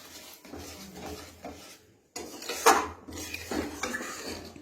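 Coriander chutney being stirred in a pan with sugar added, a spoon scraping and clinking against the metal in irregular close strokes, with a louder scrape midway and a brief lull.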